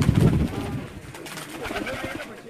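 Pigeons kept for tournament flying coo close by, soft repeated throaty calls rising and falling, with faint background voices.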